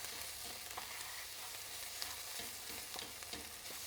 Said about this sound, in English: And so we'll let the tomato paste fry up